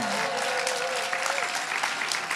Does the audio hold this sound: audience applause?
yes